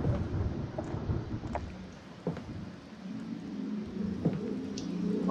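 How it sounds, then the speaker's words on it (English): Stormy weather in a video game, with a steady broadband wash of rain and low rumbling thunder, and a few faint sharp cracks over the continuous roar. "I take it we've got a storm."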